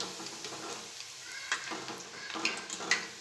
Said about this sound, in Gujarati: તેલ ગરમ છે એટલે ફ્રાય થતાં બહુ વાર નથી લાગતી.